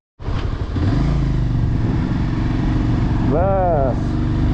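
A motorcycle engine catches abruptly and settles into a steady, loud idle close by on a mountain road near Changu Lake, East Sikkim, with a brief voice rising over it near the end.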